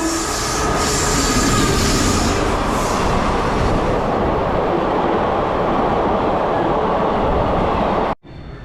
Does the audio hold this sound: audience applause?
no